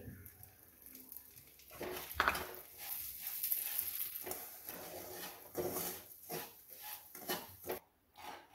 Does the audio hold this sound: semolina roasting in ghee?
yes